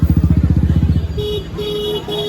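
Motorcycle ridden at night in Goa, its engine pulsing loud and close in a steady rapid rhythm for about a second before easing off to a lower drone with a thin whine.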